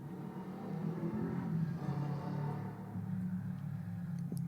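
A hot rod car drives fast close by, its engine a steady low rumble with rising and falling revs throughout, no voices over it.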